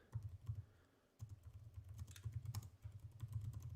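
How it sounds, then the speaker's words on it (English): Typing on a computer keyboard, a close, quiet run of irregular key clicks with a brief pause about a second in, then steady tapping resuming. "I was just typing up something"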